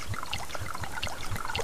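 Water poured in a survival game: a close, steady trickle with rapid bubbling, gurgling pulses throughout and no voices.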